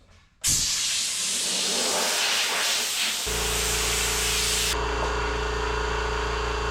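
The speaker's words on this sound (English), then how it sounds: "it's got compressed air, got the air hose" Compressed air hisses loudly and steadily from an air hose while a Ford Bronco windshield is cleaned before ExoShield protective film goes on, a continuous close blast with a lower machine drone joining partway through.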